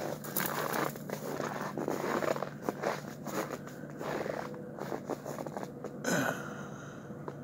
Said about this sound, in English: How do you know when it's super cold outside? When the snow sounds like this.